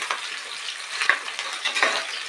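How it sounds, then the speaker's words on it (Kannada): Onion sautéing in a pan for green palav, a continuous close sizzle with occasional louder bursts and light stirring scrapes. "ಒಂದು ಈರುಳ್ಳಿ ಇದನ್ನು ಸ್ವಲ್ಪ ಬಾಡಿಸ್ಕೊಂಡ್ರೆ"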